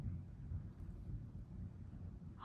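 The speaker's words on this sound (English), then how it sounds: "That's thunder." Low distant thunder rumbles steadily and faintly outdoors, a deep continuous roll with no sharp crack and no voices over it.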